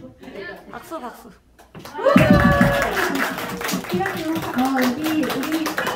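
A church congregation at a first worship service breaks into hearty clapping after a quieter opening with voices, applause and laughter carrying on together to the end.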